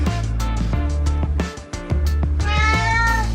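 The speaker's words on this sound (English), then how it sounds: "this is Moochie, one of my 4 cats that I have" A house cat meows up close, giving several loud, drawn-out cries in quick succession with a short gap in the middle.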